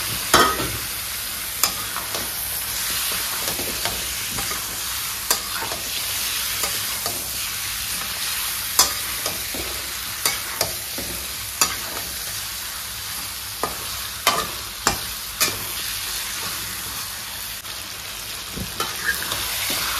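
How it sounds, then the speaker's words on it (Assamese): Chicken with half a spoon of turmeric fries uncovered in a pan, giving a continuous close sizzle with occasional sharp spatula taps and stirring scrapes. "এই চিকেনখিনি ধুনীয়াকৈ ভাজি ল'ম ইয়াতে"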